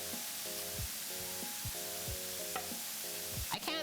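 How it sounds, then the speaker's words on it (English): Braised beef sizzles steadily in a pan, a constant close frying hiss punctuated by repeated scraping stirs and clinks, with a beeping tone pattern in the background. "I just hear sizzles."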